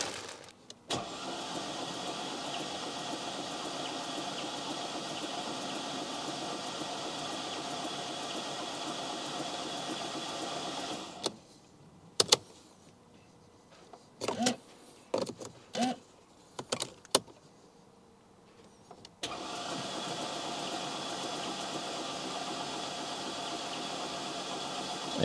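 A Mercedes engine newly fitted to a car runs with a steady, even drone for about ten seconds, cuts to near silence broken by several short bursts of cranking, then settles back into the same steady running sound.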